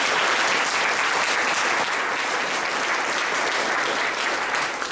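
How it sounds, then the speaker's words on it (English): Steady applause from a meeting audience for two speakers and a sponsor, many hands clapping in a continuous, evenly loud wash with no voices over it. "So I'd like to just ask everybody to give a round of applause for Ezazi for sponsoring that,"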